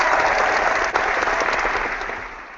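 Crowd applause at a live evening show, steady dense clapping throughout, close and fairly loud, slowly tapering toward the end.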